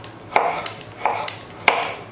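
Knife chopping eggplant into small pieces on a cutting board for meatballs, several sharp separate chops in a loose rhythm, close and fairly quiet.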